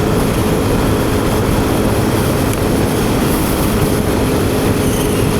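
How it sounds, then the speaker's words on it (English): Suzuki DRZ 400 SM supermoto engine buzzing at around 68–69 mph, a loud, constant roar mixed with heavy wind rush, with no pauses. "This engine needs another gear, I reckon. Yeah, that's buzzy."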